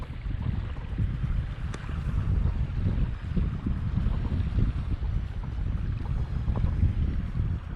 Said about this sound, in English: Hear the wind to the pine trees.